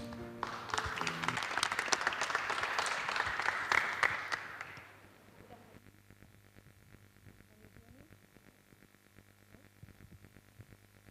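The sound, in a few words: audience applause for the keynote speaker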